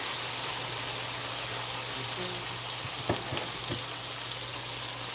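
Sweet chili pork fried rice frying in a hot pan as its sauce caramelizes, a constant dense sizzle and hiss filling the space, close and steady, with a few brief scraping knocks partway through.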